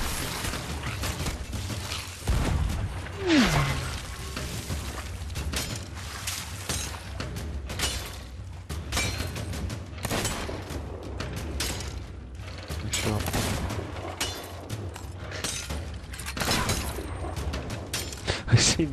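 Gunfire and clattering mechanical impacts in a Sea of Thieves pirate battle, irregular sharp bursts and crashes over a continuous rumbling game backdrop, with a voice talking intermittently.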